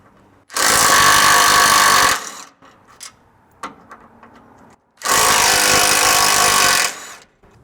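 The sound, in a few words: power tool removing 12mm bolts from 4Runner crash bars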